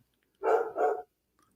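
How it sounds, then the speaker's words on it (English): Two quick barks from a dog in the background, run almost together, fairly loud and close, alone without talk. "Sorry if you hear my dog yelling in the background."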